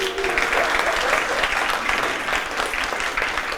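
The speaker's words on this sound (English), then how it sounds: "give yourselves a round of applause" An audience at a business women's awards premiere gives sustained, dense applause that stays steady and full, with some voices in the crowd.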